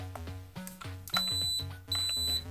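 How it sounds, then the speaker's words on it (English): Repeated electronic beeps from the controller of a Skeyne Nano 2 FPV drone, the world's smallest FPV drone, in short groups with steady tonal pitches, close and clear with no talking. "If you press that down, you'll hear beeps."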